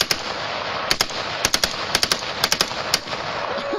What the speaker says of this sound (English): taking on a machine gun at age 4